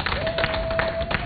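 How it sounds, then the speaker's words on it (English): Audience applauding for faculty ladies at a weight-loss program event: a short burst of scattered clapping from a room full of people, steady and moderately loud, with a faint sustained tone running underneath. "let's applaud our faculty ladies"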